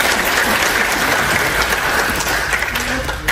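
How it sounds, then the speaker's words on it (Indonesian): An audience gives Bu Indri a dense, steady round of applause at an indoor talk, loud and continuous throughout with a faint murmur of voices underneath. "Boleh tepuk tangan buat Bu Indri"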